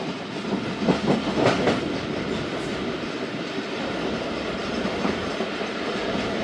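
Zakaria Express train drawing near Lodhran, a steady rumble of rolling rail cars with faint rhythmic clatter and a few brief higher squeals or hisses early on, heard continuously and fairly close.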